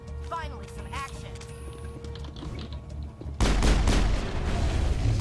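Game combat in Mass Effect: faint electronic chirps and tones give way to a sudden loud grenade blast, followed by a dense roaring burst of gunfire and debris.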